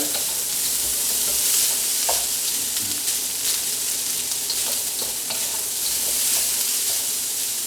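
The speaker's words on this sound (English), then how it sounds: "it's frying" Fried rice sizzles and crackles steadily in hot oil in a wok, a loud, close frying hiss with occasional stirring scrapes and pops, no talking.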